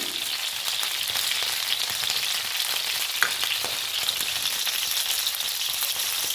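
Curry leaves crackling in hot oil, a dense, even hiss of frying with tiny pops, close and steady from start to finish.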